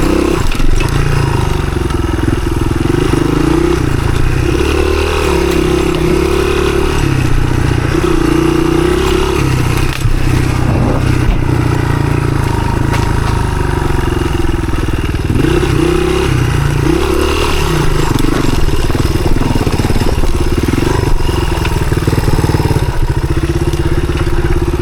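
A 1983 Honda XR200R on an enduro trail loop, its engine held wide open in second gear: a loud, continuous, close-up single-cylinder roar with rattling and shifting pitch, no talking.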